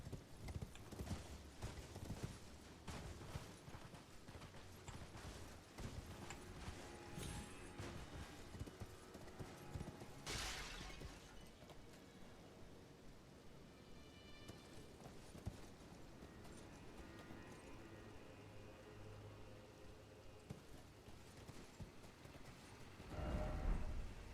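Rapid hoofbeats of a galloping horse pound along continuously in Elden Ring: Shadow of the Erdtree, with clattering effects and a brief burst of noise midway.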